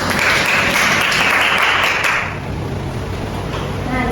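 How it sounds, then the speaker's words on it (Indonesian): A primary school class applauds a group returning to their seats, dense clapping for about two seconds that then fades into quieter room noise and murmuring. "silakan kembali kita beri tepuk tangan."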